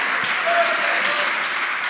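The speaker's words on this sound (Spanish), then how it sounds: "Démosle fuerte ese aplauso a aquel que es la resurrección" A church congregation applauds, a steady, dense wash of clapping that carries through the whole short stretch at even loudness with no voices on top.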